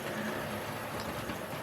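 A Hornby Peckett B2 0-6-0 model locomotive runs along a model railway track, making a faint, steady whirring rumble with a soft rattle throughout the short stretch.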